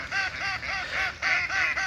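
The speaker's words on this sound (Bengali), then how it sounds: "আমাদের হাঁস এখন ডিম দিচ্ছে আলহামদুলিল্লাহ।" Farm ducks at a village homestead give a steady run of repeated nasal quacks and honks, several birds calling close together in rapid overlapping bursts.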